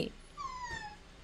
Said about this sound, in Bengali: আই গুন্নু, এই যে ডগিকে কেন পিটি দিচ্ছ তুমি?